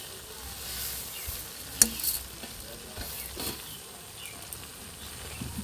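A jaggery and sesame mixture for gurer naru is stirred in a pan. It gives a steady frying sizzle with soft scraping strokes and one brief sharper clink, and no one speaks.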